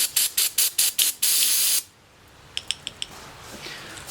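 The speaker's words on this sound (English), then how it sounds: "And give it another spray." Aerosol spray cleaner blasts lawnmower carburetor parts in five short hissing bursts and then one long spray, followed by a few faint metallic clicks of small parts being handled.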